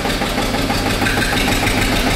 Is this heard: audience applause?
no